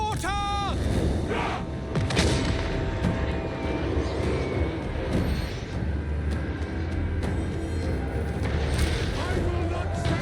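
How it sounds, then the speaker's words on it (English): Mortar artillery fire in Total War: Warhammer 3 rolls through a dense, continuous battle din, with booming blasts and rumbling impacts layered over steady loud combat noise. "Mortar!"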